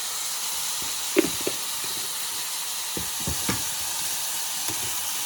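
Potatoes and spice powder being stirred in a frying pan for a Bengali alu posto, with a steady sizzle and hiss under scattered soft scraping strokes and light knocks, close by and with no talk.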